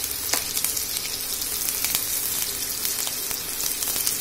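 Chopped onion frying with garlic in a hot pan, a constant crackling sizzle close up with scattered sharp pops and a few light stirring ticks, no talking over it.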